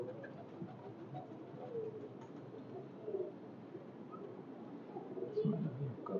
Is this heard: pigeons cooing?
yes